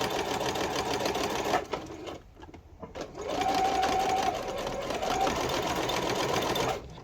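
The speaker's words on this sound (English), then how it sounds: "I just turn it around and I just start stitching again on the way back." Sewing machine runs steadily while stitching patchwork, a fast, loud mechanical whir that pauses briefly in the middle as the fabric is turned, then resumes.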